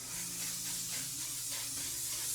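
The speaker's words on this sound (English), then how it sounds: "Use a setting spray just to lock this whole look in." A pump bottle of makeup setting spray mists in one steady, soft airy hiss that stays even for a couple of seconds, with no talking.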